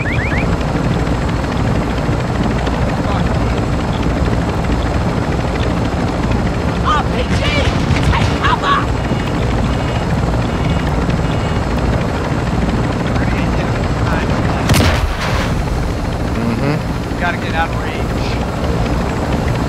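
Helicopter engine and rotor noise from a military-style video game, a steady loud drone running throughout, with distant gunfire bursts and radio chatter from players layered over it.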